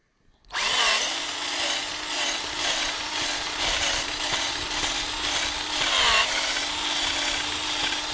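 A power drill bores a tap hole into a maple tree trunk, a steady close grinding whir through the wood running continuously after a brief start, with slight rises and dips as the bit is worked in and out.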